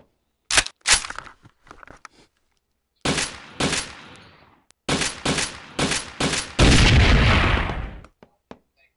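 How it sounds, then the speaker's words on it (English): Gunshots are fired at a grenade at a gun club until it explodes: sharp, loud single shots and short bursts with silent gaps, ending in a longer, heavy boom that fades away, with no voices. "See what happens if I shoot the grenade."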